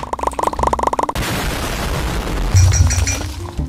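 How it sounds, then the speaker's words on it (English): Explosion in a chaotic video game, with a rapid rattling burst of cracks that gives way to a loud, sustained roaring blast with glassy shattering and scattered debris noise. "Explosion's about to happen!"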